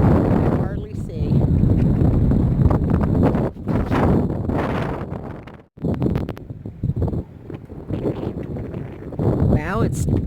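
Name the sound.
strong wind blowing before a storm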